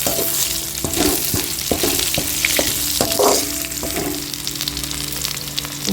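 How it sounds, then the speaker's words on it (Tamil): Curry leaves crackle and sizzle in hot oil, with repeated scraping stirs of a spatula against the pan, close and continuous, no talking. "கருவேப்பிலை வதங்கிடுச்சு"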